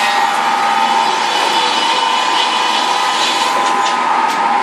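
Sawmill saw cutting timber, a steady loud whining drone with a constant tone and no break, heard up close and alone for the whole stretch.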